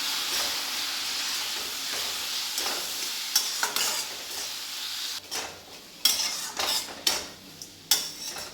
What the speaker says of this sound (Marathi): आणि आता यातच आपल्याला हा पाक टाकायचा.